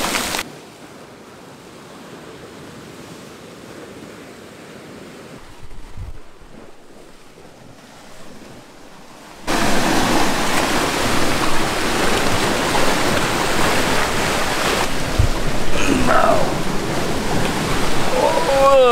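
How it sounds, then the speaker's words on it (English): Sea water surges and splashes at a cave entrance on the Caribbean coast of Costa Rica, a quiet windy stretch giving way to loud, close, churning wash and spray that continues to the end. "Now the water's splashing up."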